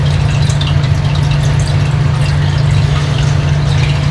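Warm water pours steadily and loudly over apples in a crock pot, a continuous gushing splash with a low hum underneath.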